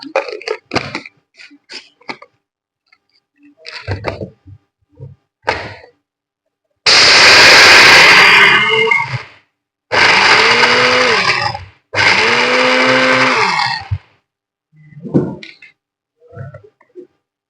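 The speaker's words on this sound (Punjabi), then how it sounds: "ਮੈਂ ਨਾਲ ਦੀ ਨਾਲ ਹੀ ਬਦਾਮ ਪਾ ਦੂੰਗੀ ਫਿਰ ਕੀ ਕਰਾਂਗੇ ਆਪਾਂ ਪੀਸ ਲਾਂਗੇ" An electric grinder pulverises almonds, part of a four-ingredient home remedy, in three loud, close bursts of whirring and rattling of a few seconds each, with clicks and handling sounds between them.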